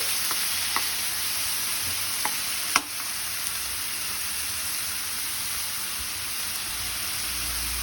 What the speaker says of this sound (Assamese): মাছৰ পেটুখিনি এতিয়া মই ভালকৈ তেল হোৱালৈকে লৰাই থাকিম